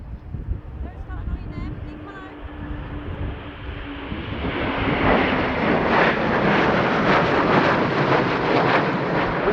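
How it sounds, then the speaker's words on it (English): Three RAF Eurofighter Typhoon jets breaking formation at an airshow, their engine roar building from a distant rumble to a loud, sustained tearing blast, with a voice over the start. "And then the 3 RAF Typhoons on the break"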